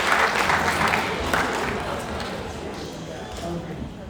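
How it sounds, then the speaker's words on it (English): Audience applause at a motivational speaking event, a dense spread of clapping close and loud at first, then gradually thinning and fading. "give yourself a round of applause"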